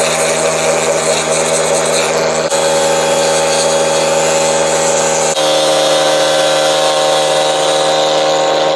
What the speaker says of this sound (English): let's do a little bit of sanding, see how that works.